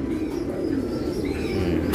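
Pigeons, racing birds kept in a loft, coo in a low steady murmur that runs continuously throughout, fairly close with a dense background hum of birds.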